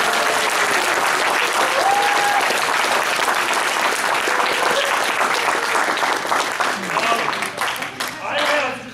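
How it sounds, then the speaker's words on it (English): Convention audience giving a loud, sustained round of applause, dense clapping with cheers mixed in, tapering slightly toward the end. "Guys, give the buddy a round of applause."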